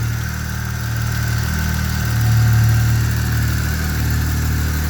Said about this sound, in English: So it runs pretty good, purrs nicely